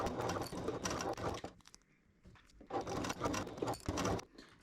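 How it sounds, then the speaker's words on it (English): A sewing machine stitches cording onto a tote bag in two quick bursts of rapid whirring, separated by a short pause. "let's begin stitching"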